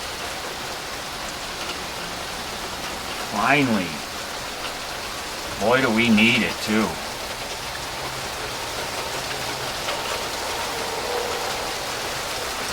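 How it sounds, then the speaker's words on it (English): Steady rain pours down outdoors, a dense even hiss that continues throughout, while excited voices speak over it in two short bursts. "raining. We got rain."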